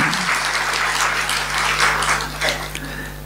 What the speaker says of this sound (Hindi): फिर ताली तो बजाओ ना जरा अच्छे तौर से।